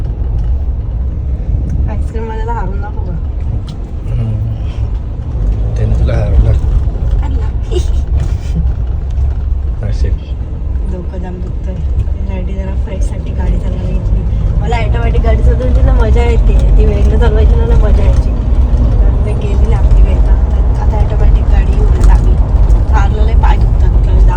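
Automatic Mahindra Thar being driven, heard from inside the cabin: continuous loud road rumble and engine drone throughout, with people talking over it.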